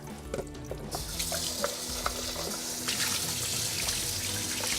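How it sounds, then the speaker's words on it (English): Tap water running and splashing over almonds being rinsed in a kitchen sink, a steady close trickle with small clinks and splashes, no talking. "I'm gonna rinse it once more."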